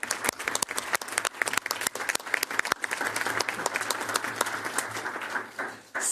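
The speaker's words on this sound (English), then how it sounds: "can you join me in giving all of them a round of applause?" A room full of people at a school board meeting applauds, a dense stretch of clapping that holds steady for several seconds before tapering off.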